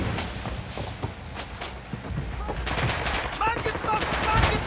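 Gewehr 43 rifle shots crack out in Red Orchestra 2 multiplayer battle on the Eastern Front, several sharp reports scattered over dense, continuous combat noise with distant gunfire throughout.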